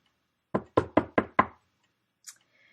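Five sharp knocks on wood in a quick, even series, close and clear, then a brief faint tap after a pause.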